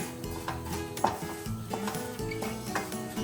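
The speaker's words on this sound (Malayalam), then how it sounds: "ഒരു 5 മിനിറ്റ് ഇളക്കിക്കൊണ്ടേ ഇരിക്കണം ഗൈസ്, നമ്മൾ ഈ റവ മാത്രമായിട്ട്" A spoon scrapes and clinks against a pan while semolina (rava) is stirred for kesari, producing irregular close knocks and scrapes in a quick uneven rhythm with no voices.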